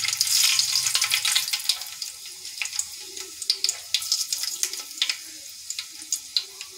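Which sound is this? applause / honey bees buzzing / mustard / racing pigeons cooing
mustard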